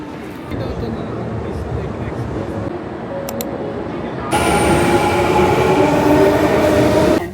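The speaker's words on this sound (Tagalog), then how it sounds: "Napakadaming tren na dumadaan sa Namba Station." Trains rumble through Namba Station in Osaka, a steady low roar that swells louder midway, with faint metallic whine and background chatter.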